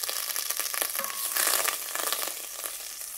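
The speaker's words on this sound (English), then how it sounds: "In a pot, melt 1 tablespoon of butter until it turns slightly brown." A tablespoon of butter melts and browns in a pot, giving a steady, close, hissing sizzle with small crackles throughout and no voices.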